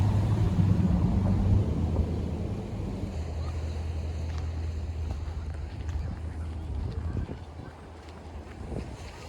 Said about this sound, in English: This is the beach at Fort Fisher.